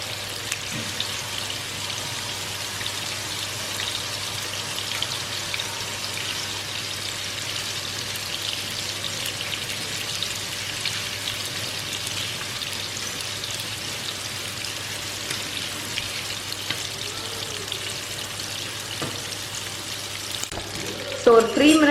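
A chicken burger patty fries in a pan with a steady, even sizzle and crackle that continues unbroken at close range, ending with a brief clatter.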